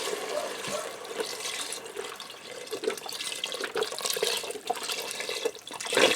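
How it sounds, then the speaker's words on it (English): Beef broth pours steadily into a pressure cooker holding browned beef, a continuous splashing liquid stream that runs close and even for several seconds. "I'm going to add in 4 cups of beef broth."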